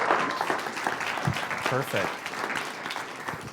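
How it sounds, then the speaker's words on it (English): An audience at an evening tribe gathering gives a short round of applause, fairly quiet and steady, with a voice briefly speaking over the clapping. "And so one more big round of applause for Gary Norris."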